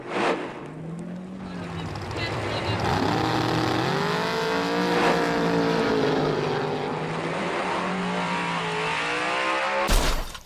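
Drag racing car revving hard, a loud sustained engine roar with pitch sweeping up and down, ending in a sharp burst of noise.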